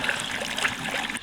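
Water trickling and splashing as it is poured into a pot of pork belly, cured meat, potato and oyster sauce for braised rice, a short close steady stream with no talking.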